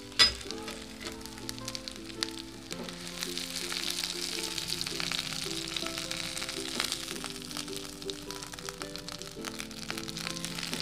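Jimbaran-style Balinese fish grilling under a cover, with a steady crackling sizzle running throughout while music plays over it at a moderate level.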